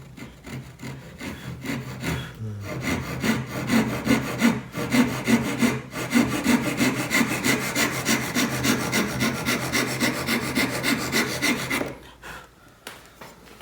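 Hand saw cutting through wood for a dovetail joint in a joinery class, with steady rapid back-and-forth rasping strokes at close range that run for about ten seconds before stopping.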